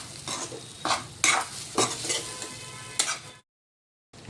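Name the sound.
jhunka (gram flour dish) cooking and being stirred in pan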